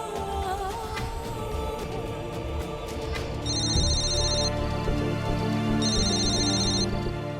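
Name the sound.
phone ringing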